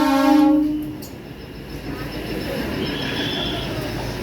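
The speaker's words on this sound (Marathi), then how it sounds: "ही ट्रेन आहे आज." A local passenger train in Kashmir sounds a loud sustained horn at the start, then a steady rolling rumble of the carriages continues close by with no talking.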